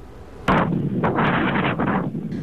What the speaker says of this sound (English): The Bowles family caught the West Fertilizer explosion on video.